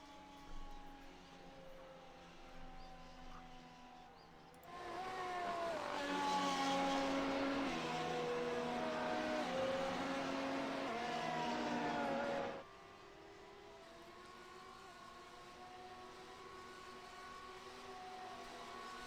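F1 race cars at Monza in the game F1 Challenge, engines droning in a steady blend with a louder, brighter surge of passing cars in the middle stretch before settling back to a lower hum.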